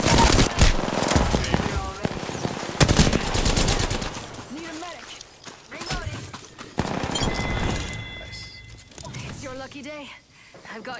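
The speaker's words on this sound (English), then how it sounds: "Gunfire" Gunfire in the battle royale game Apex Legends, with bursts of rapid automatic fire and single shots crackling through the first half, then thinning out beneath players talking over each other.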